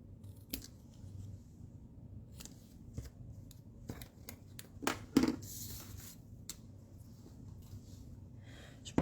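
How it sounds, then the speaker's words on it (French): Several crisp scissor snips cut through paper while making a greeting card, with soft rustling and handling between cuts, close and fairly quiet. "avec les ciseaux, je vais juste venir les couper"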